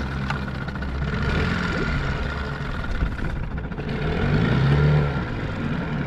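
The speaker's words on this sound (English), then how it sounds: "You don't want to fall down when the motor kicks in." An outboard motor on a small inflatable dinghy runs with a steady low rumble and churning water. A brief rise in pitch comes near the end, and the sound is fairly loud and close.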